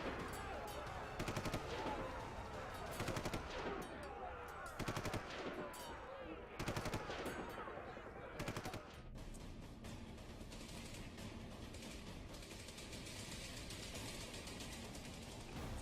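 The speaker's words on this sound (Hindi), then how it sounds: "असॉल्ट राइफल से गोलियां बरसाकर" Bursts of rapid automatic assault rifle fire crack out in several volleys, then give way to a continuous, dense rattle of shots that fades into a steady roar.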